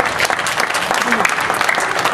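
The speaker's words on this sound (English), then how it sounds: "let's give God a clap of praise." A church congregation claps in praise to God, a loud, dense burst of many hands with voices mixed in beneath the clapping.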